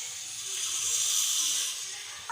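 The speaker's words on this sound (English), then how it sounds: "I have kept it in the cooker for steaming." Steam hissing steadily from a cooker steaming jackfruit modak, a bright continuous hiss that swells slightly mid-way and stays close and alone.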